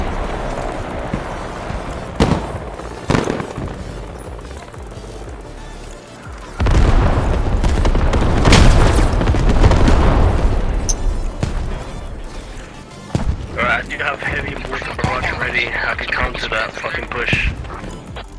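A grenade blows up in a tactical shooter video game, a loud booming burst with a rumbling tail, surrounded by someone narrating and scattered gunfire-like pops.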